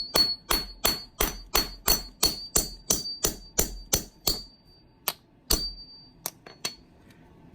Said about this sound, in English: So we're just going to hit this with a hammer and punch it all the way through.